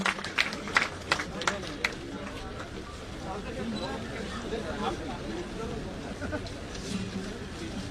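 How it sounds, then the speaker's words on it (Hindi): Applause at an outdoor Congress farmers' rally welcoming Dotasra: a few sharp claps and crowd noise up front, then a restless murmuring crowd under a loudspeaker voice. "तालियों की गड़गड़ाहट से डोटासरा साहब का स्वागत और अभिवादन करें।"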